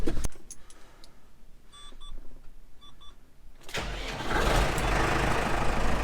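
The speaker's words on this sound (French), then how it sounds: "Le moteur est en train de tourner maintenant." A repaired tractor engine with a weakly charged battery cranks briefly, then catches and settles into a loud, steady running roar that continues to the end.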